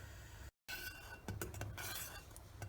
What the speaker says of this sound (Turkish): Şöyle orta ateşte bu şekilde karıştırarak şöyle 1-2 dakika karıştırmaya devam edeceğim.